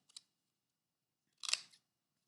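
Scissors cutting red paper shapes for a small collage: a quick snip, a pause, then a longer crisp cutting burst, close and quiet in an otherwise silent room.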